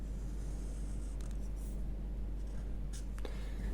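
A pattern line for the front of men's trousers is drawn on paper, with faint scratchy strokes and a few short scrapes over a constant low hum.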